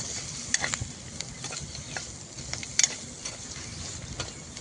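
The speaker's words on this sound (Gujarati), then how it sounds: "જેને આપણે આવી રીતે તેલમાં જ સાંતળી લેવાનું છે" Paneer sautéing in oil with masala in a pan, a steady soft sizzle with light stirring scrapes and a couple of sharp utensil clicks, no talk.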